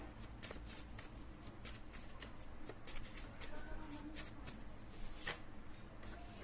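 Tarot cards being shuffled for a reading, a steady run of quick papery riffles and soft slaps close by, with faint background noise throughout.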